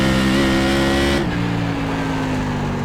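A Tour Modified race car in iRacing, running at North Wilkesboro, holds a high, buzzing engine note at speed down the straightaway, dropping slightly in pitch after a shift, loud and continuous without talk.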